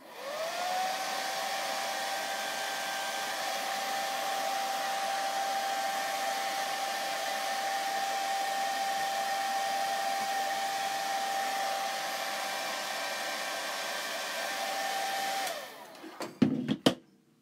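A hair dryer blows steadily on the back of a chalk craft stencil, a loud continuous whirring hum that runs for about fifteen seconds, then clicks off with a few handling knocks.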